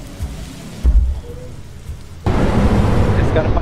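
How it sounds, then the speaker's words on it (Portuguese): Heavy rain and a thunder crack in a dinosaur video game, a brief rumble early on and then a loud, dense downpour roar filling the second half, with a voice speaking faintly over it. "Nossa, chovendo demais, cara."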